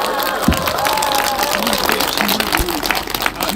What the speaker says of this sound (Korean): 주민 여러분 큰 박수로 원희룡 후보님을 맞이해 주시기 바랍니다.